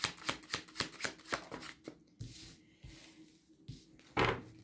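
Tarot cards are shuffled by hand in a quick, rhythmic run of crisp riffling slaps, then slowed, softer snaps and slides as individual cards are drawn and laid down, close and fairly quiet.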